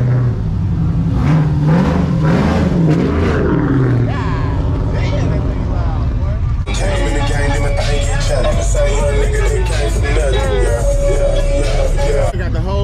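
A truck engine revs loudly and continuously at a summer truck meet, roaring harder and brighter about halfway through. Voices can be heard mixed into the din.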